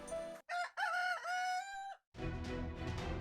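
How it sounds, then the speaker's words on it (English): A rooster crows in the Fate/Grand Order summer beach event, a loud, near, drawn-out cock-a-doodle-doo standing alone, followed by a burst of broadband noise. "Oh, that sounded like a chicken just now."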